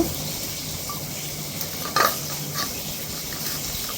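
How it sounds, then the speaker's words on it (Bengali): Fish frying in oil in a pan, a steady close sizzle with a brief clatter of a utensil against the pan midway. "দেখ, মাছটা এক পিঠ ভাজা হয়ে গেছে, পাল্টিয়ে নেব।"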